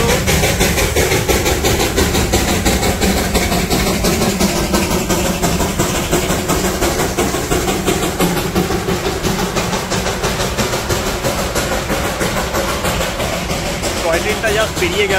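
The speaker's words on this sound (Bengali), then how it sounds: "টয় ট্রেনটা জাস্ট পেরিয়ে গেল" Darjeeling toy train passing at Batasia Loop on a monsoon day: a loud, steady engine rumble fills the whole stretch while people talk over it.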